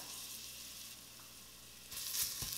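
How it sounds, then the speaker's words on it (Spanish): Garlic hits a little hot fat in a pan, a quiet steady sizzle that surges louder near the end as more spatters and a stir kick in, close and without speech. "Le vamos a poner poquita grasa y agregamos el ajo."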